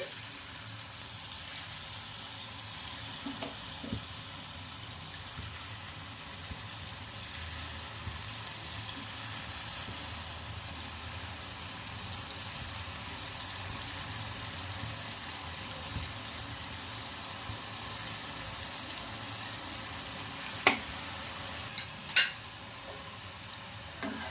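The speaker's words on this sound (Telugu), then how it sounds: "బాగా క్రిస్పీగా అయ్యే వరకు ఫ్రై చేసుకోవాలి" Potato kurkure sticks deep-frying in hot oil until crispy, a steady broadband sizzle and bubbling that runs throughout with a few sharp clinks of a utensil near the end.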